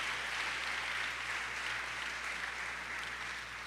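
Applause from a church congregation fills the space with steady, dense clapping at moderate level, holding evenly for a few seconds with no voices on top.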